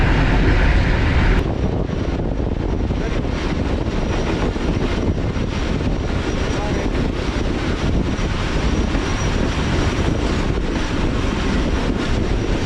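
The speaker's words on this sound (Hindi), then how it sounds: "तो ये रहा आज का हमारा लोकोमोटिव HM28206।" Pakistan Railways locomotive HM28206 hauls the Green Line Express through hilly Sindh, heard as a loud, continuous low rumble and roar of the moving train with wind buffeting, steady throughout with no talk.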